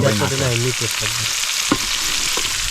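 Spice paste frying in a pan gives a steady, close hiss and sizzle, with a brief tonal hum near the start.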